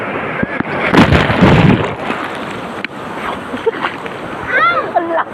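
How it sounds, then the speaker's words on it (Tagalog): Strong waves crash and slosh nearby while swimming, amid gusting wind noise, with people talking and shouting over the surge. "Ang lakas ng alon."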